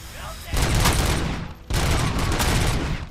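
Heavy gunfire in RoboCop: Rogue City, two loud sustained bursts of rapid shots with a brief gap between them, dense and close with no talking.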